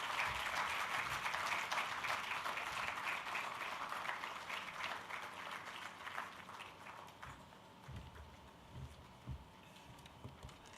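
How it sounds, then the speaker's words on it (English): An audience at a data protection summit's opening ceremony in Ghana applauds the Honorable Minister, dense clapping at first that gradually thins and fades into scattered claps. "A round of applause for the Honorable Minister."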